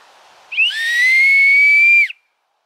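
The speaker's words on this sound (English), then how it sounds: "Now you have your whistle." A single sustained, bright whistle tone blown on a homemade wooden survival whistle for about one and a half seconds, loud and close, then cut off into silence.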